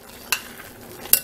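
Two short bursts of stirring and scraping in a pan of blended tomato and pepper, with a faint sizzle between them.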